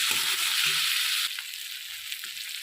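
Turmeric powder sizzles in hot oil for a vegetarian jackfruit curry, a steady bright frying hiss that drops slightly halfway through, with faint stirring scrapes underneath.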